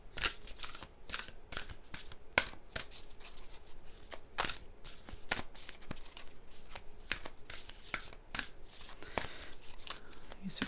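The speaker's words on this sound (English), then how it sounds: "These are kind of hard to shuffle too." Lemurian oracle cards being shuffled by hand, a steady run of crisp riffling and slapping bursts repeating close up for about ten seconds, with no talking.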